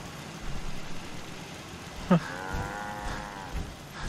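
A cow moos in Fallout 4, one drawn-out low call rising after a sharp knock, heard near over a soft ambient hum, with a faint thump after it.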